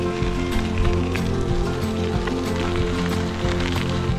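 Steady rain falls in Sweden, a dense continuous hiss of drops on surfaces, loud and even throughout with no talking.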